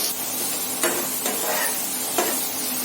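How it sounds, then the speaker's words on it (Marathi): Sliced onions sizzle in hot oil in a pan for a dhaba-style paneer masala, with a steady close hiss broken by several quick scraping stirs of a spoon. "2 मोठे कापलेले कांदे, हे गुलाबी होईपर्यंत परतून घ्यायचे"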